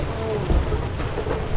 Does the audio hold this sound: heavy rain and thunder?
yes